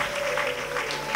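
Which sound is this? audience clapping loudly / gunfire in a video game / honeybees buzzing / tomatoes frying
audience clapping loudly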